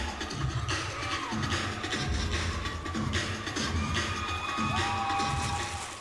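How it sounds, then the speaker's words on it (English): A live audience at a cheerleading event erupts in loud, sustained screaming and cheering, a dense crowd roar with high shrieks carrying through the whole stretch. "why did the audience suddenly start screaming?"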